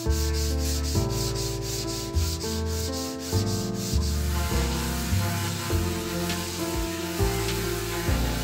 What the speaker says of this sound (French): on va venir poncer toutes les pièces une par une avec du papier poncé ou une ponceuse